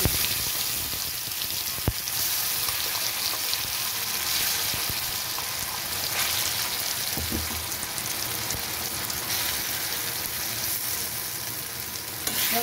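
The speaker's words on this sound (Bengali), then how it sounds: "আমি কড়াইতে তেল দিয়ে দিয়েছি, এবার পেঁয়াজ, রসুন, আদা, টমেটোর পেস্টটা দিয়ে দিচ্ছি।" Continuous crackling sizzle of onion, garlic, ginger and tomato paste frying in hot oil in a wok, steady throughout with occasional sharper pops and scraping.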